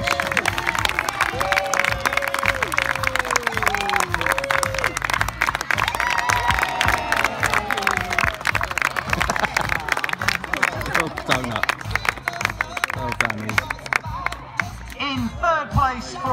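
A school sports day crowd claps and cheers loudly and without a break as a child finishes the egg and spoon race, with a dense patter of applause and children shouting, while a voice carries over the noise.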